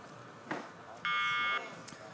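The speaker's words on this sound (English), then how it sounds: "And there the buzzer goes." The start buzzer at the World Rowing Under 19 Championships finals, one loud, steady electronic tone of about half a second, heard over a faint background with an announcer's voice.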